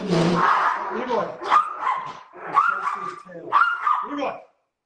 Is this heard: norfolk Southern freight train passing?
no